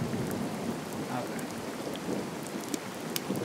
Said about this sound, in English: I really hate this rain.